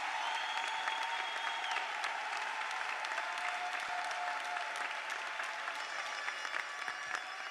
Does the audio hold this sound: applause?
yes